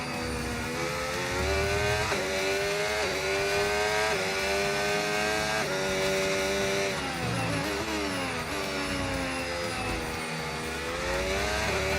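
An F1 race car engine in F1 25, a steady high-pitched whine climbing and dropping through gear changes, with other cars droning alongside, loud and continuous.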